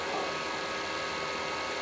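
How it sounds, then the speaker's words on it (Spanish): Small fan whirring inside a handheld 500-in-1 game console, a steady broadband hiss-like drone holding constant and fairly close, with no other sounds standing out. "el ventilador hace bastante ruido."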